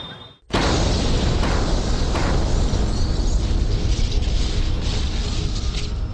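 A sudden loud bomb blast in a crowded area of Delhi after a brief quiet moment, followed by a sustained roaring rumble that stays heavy and dense for several seconds.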